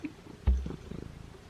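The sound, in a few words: cat purring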